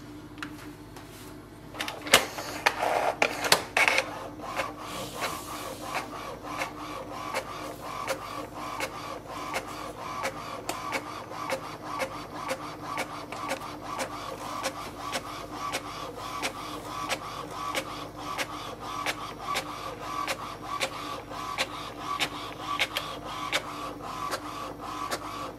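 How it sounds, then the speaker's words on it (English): An Epson WorkForce WF-110 portable printer runs a page through, opening with a few louder clunks and then settling into a steady, evenly repeating mechanical clicking and whirring that continues up close and alone throughout. "Click on the print. Instantly it will send a print command."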